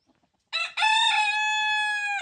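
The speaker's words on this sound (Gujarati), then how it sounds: "જો આ કાળો કુકડો જો કેમ પાક કરે છે" A black rooster crows nearby, one long loud call with a short broken start, then a sustained ringing note held for over a second.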